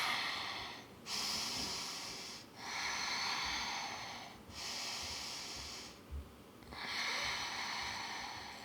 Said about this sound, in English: Couple of deep breaths here.